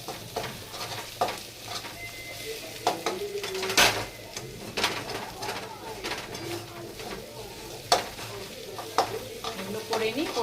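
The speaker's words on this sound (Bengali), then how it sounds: "এখানে আলু রসুন একটু ভাজা হচ্ছে" Potatoes and garlic frying in a home kitchen pan, a moderate sizzle with repeated stirring scrapes and clinks, pigeons cooing nearby and faint voices in the background.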